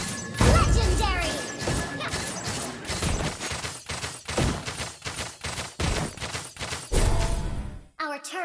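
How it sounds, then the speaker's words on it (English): Mobile Legends turret being destroyed in a busy game fight: a loud burst of smashing, crashing impacts and rapid gunfire-like hits, ending in a short electronic flourish. "Our turret has been destroyed."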